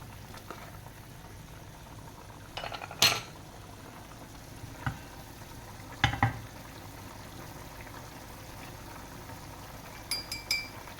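Sugar bubbles in a pan as it cooks down into caramel for a caramel pudding, a quiet simmer under a few scattered spoon clinks and scrapes from occasional stirring.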